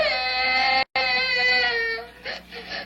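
A baby cries loudly and close in a long, wailing, harmonic sob that breaks off briefly, then resumes and trails into whimpering, with no talking over it.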